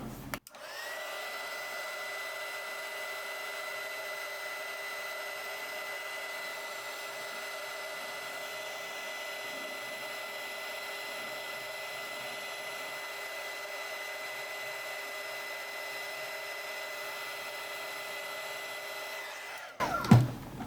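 A heat gun blows a steady, even hum of hot air to shrink heat shrink tubing over a ferrule on a QRP end-fed half-wave antenna. It switches on at the start and clicks off near the end.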